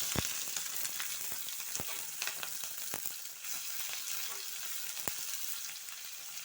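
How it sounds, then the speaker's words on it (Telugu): Cumin seeds in hot oil give a quiet, even sizzle broken by scattered sharp pops and crackles, heard alone. "ఇప్పుడు ఆయిల్ కాగింది కదా దీంట్లోకి ముందుగా మనం జీలకర్ర వేసుకోవాలి"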